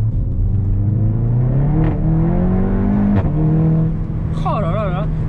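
A 360-horsepower Seat Leon Cupra with a DSG gearbox accelerates hard, the engine note rising steadily through gear changes with a brief dip at each shift, loud and close from inside the cabin, with people talking over it.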